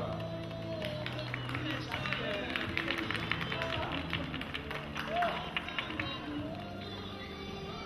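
Crowd applause at a harness horse race for the winning trotter and its driver: steady, scattered clapping that blends into general crowd noise under a voice on the public address.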